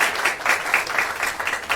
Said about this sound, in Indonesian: Siapa yang sepakat berikan tepuk tangan buat Tuhan Yesus.